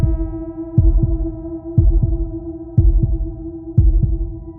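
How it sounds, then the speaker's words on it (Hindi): A deep thumping heartbeat sound effect in a horror film, in paired beats evenly spaced about once a second, over a steady low drone. "दिल की धड़कन तेज हो रही थी"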